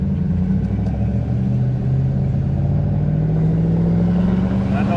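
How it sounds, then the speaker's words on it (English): Inside a 2009 Hemi Ram truck on the road, a steady engine drone and road rumble fill the cab, with pitch slowly rising as the truck speeds up in a fault that leaves it stuck in fourth gear. "So we're taking it for a ride."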